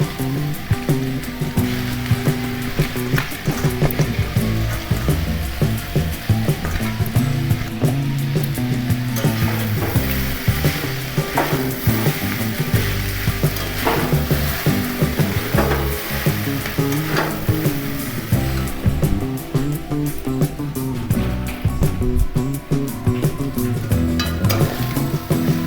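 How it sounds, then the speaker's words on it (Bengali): Boiled chow mein noodles with chicken sizzle steadily in a hot pan while a fork stirs and scrapes through them, a continuous loud frying hiss with rhythmic clinks and no talking. "একটা কাঁটা চামচ দিয়ে নাড়াবেন, না সুবিধা হবে।"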